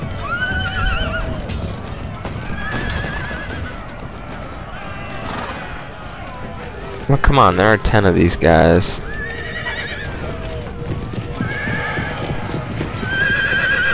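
Cavalry horses in the video game Empire: Total War neigh and whinny repeatedly over a busy battle din, with a louder burst of whinnying midway, while someone talks throughout.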